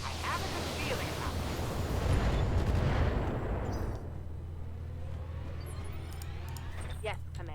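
A mech's alpha strike in BattleTech unloads all weapons at once, a heavy roaring volley of cannon and missile fire that booms loudly for a few seconds, then fades into a rumbling tail under a faint voice.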